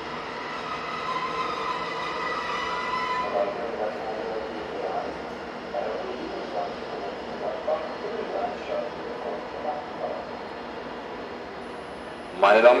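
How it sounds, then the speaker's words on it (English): DB Class 115 electric locomotive 115383 pulls an overnight train from Vienna into Koblenz Hauptbahnhof, a steady rumble with a strong tonal hum early that fades into softer rolling, then a sudden loud burst near the end. "Here 115383 arrives with an overnight service from Vienna"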